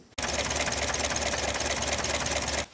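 A 1927 Chevrolet Capital vintage car engine runs close by after wheel work, a steady, even mechanical chatter with rapid ticking that starts abruptly and holds at a constant loud level before cutting off.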